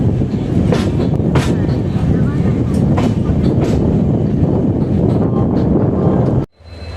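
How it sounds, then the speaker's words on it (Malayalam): A train rumbles steadily as it pulls into Shoranur Junction railway station, a loud continuous roar with wind buffeting and faint clatter throughout, then cutting off abruptly near the end. "നമ്മൾ 12:24 കൂടി ഷൊർണൂർ ജംഗ്ഷൻ റെയിൽവേ സ്റ്റേഷനിലേക്ക് കയറിക്കൊണ്ടിരിക്കുകയാണ്"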